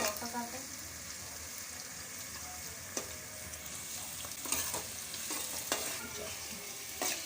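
Onions frying and being stirred in a pan for a green pea chutney, with a steady sizzle under occasional sharp clicks of a spoon against the pan, no talking.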